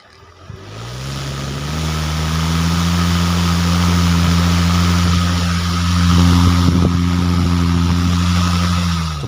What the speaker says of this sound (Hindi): ड्रिल मशीन जो है स्पीड पकड़ती जा रही है।